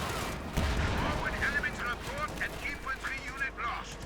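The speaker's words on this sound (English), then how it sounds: "Another barrage unleashed." Artillery barrage and gunfire in Company of Heroes 2, a 2v2 match between US and OKW armies, with dense rumbling blasts and scattered shots under continuous commentary talk.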